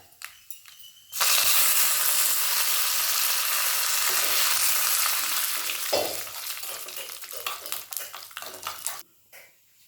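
Curry leaves hit hot oil during tempering, with a loud, sudden burst of sizzling frying that slowly fades and crackles down over several seconds, close up and with no speech.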